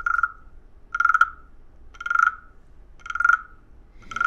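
A toy frog instrument used in music therapy croaks five times in an even, roughly once-per-second rhythm, each a short rasping burst, close and clear, with no talking.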